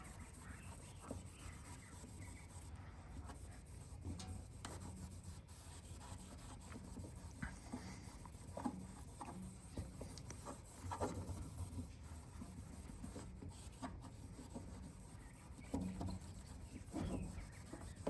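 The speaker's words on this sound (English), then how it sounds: "I'm polishing with my left hand" A faded taillight lens on a 1980 Chevrolet C10 step side pickup is hand-polished with compound, producing a continuous soft rubbing and scrubbing with irregular strokes, close and fairly quiet.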